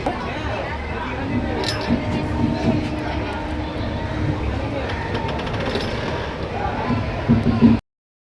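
Passenger train running with fairly empty carriages, heard from inside as a steady broadband rumble and rattle throughout, with faint chatter and a few brief clanks near the end.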